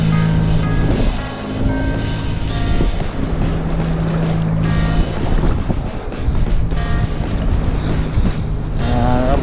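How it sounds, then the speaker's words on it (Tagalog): Strong wind buffets the microphone as heavy waves slap and churn around a small fishing boat at sea, a loud, continuous roar with surging swells and no talk. "Lakas ng alon."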